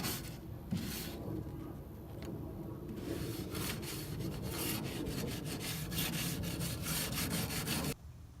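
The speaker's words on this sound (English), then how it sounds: "regular brush still, and run it over all the grates" Wire grill brush scrubbing warm barbecue grates coated with non-stick grill wipe, a steady close rasping of repeated strokes that stops abruptly near the end, with no talking.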